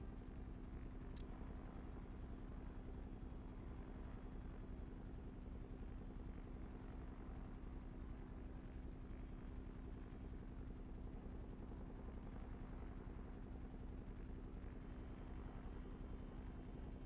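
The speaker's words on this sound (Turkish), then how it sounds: "Abi bu helikopter hiç sıkıntıymış yalnız," A video game helicopter during a police raid, a steady droning rotor thrum with a constant low hum, unbroken and even throughout without any talk.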